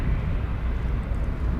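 Steady low broadband rumble from an airliner arriving from Frankfurt and flying a go-around at DFW Airport, a continuous distant jet roar with no talk over it.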